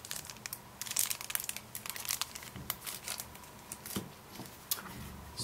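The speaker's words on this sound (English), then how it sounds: "So let's get this plastic off." Plastic protective wrap peeled off a Sony Ericsson Equinox phone, giving close, steady crinkling and crackling with sharper bursts throughout, no talk.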